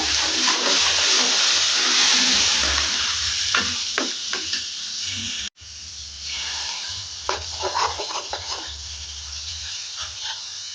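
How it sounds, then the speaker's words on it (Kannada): Tomato paste frying in a pan: a steady hissing sizzle with intermittent scraping and clinking of a spoon stirring, one brief cut midway, with no talking. "ಚೆನ್ನಾಗಿ 1-2 ನಿಮಿಷ ಫ್ರೈ ಆಗಲಿ ಟೊಮೆಟೊ ಪೇಸ್ಟ್ ಹಾಕಿದ ಮೇಲೆ"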